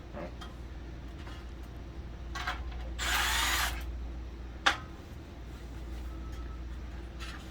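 A power driver gives a short whirring burst while tightening screws on a Chatsworth Products fixed wall rack, with a faint click soon after in a quiet room.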